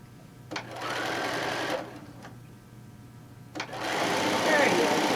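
A home sewing machine stitches a half-inch seam on a tote bag panel in two slow running bursts separated by a pause, its motor whirring at close range, with no talk.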